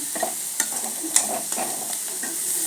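Eggs fry in a hot pan with a steady broadband sizzle, broken by a few sharp scraping stirs of a utensil, close and fairly loud, with no talking.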